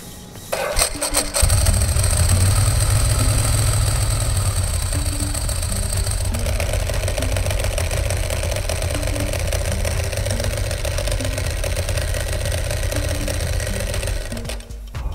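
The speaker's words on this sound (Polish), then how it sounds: "Mikołaj, odpal silnik." A Ducati ST3 motorcycle with a dry clutch and custom cut clutch cover starts up and then settles into a steady, close, loud idle that holds to the end with no talk.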